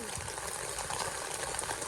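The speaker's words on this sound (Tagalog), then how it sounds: "Unang ulan nga pala ito ng Mayo." First rain of May falling as a steady, dense hiss of drops, evenly loud and unbroken from start to finish.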